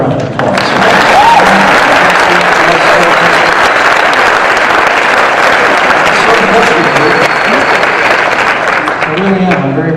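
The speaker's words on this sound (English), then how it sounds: "Give her a round of applause." A campaign event crowd in Phoenix breaks into sustained, loud applause, dense clapping filling the room with faint cheers mixed in throughout.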